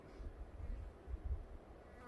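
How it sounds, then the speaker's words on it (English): A bee buzzes faintly nearby, its hum rising and fading as it circles, with soft breeze noise around it. "I do hear a bee buzzing around my head though"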